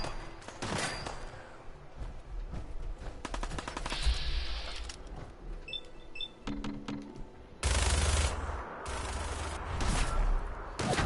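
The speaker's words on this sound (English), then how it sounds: "Okay, so this minigun is just wildly inaccurate" Minigun fire in the video game Fallout 4, loud sustained rattling bursts with dense repeated shots, a brief lull, then another heavy burst near the end, no talking.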